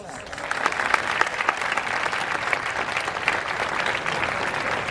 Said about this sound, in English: please welcome all of these well-known personalities with thunder of claps